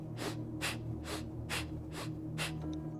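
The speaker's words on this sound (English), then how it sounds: "Bhastrika sounds as if you are blowing out a birthday candle through the nostrils" Bhastrika pranayama breathing: six forceful, evenly matched breaths pushed through the nostrils in a steady quick rhythm, each a close, loud rushing burst with no talking.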